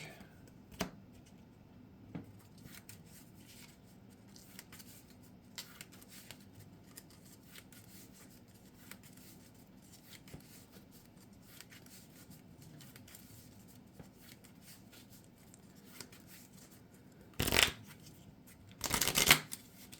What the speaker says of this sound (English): I'm going to shuffle an Armor Up back into my deck.